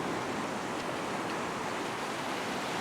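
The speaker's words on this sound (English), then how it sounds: "I just want to pinch a few extra metres to make sure that I'm out, well out beyond the breaking waves" Ocean surf breaking on a beach while fishing for Australian salmon, a steady broadband wash of waves rolling in continuously, fairly loud and close, with no voices.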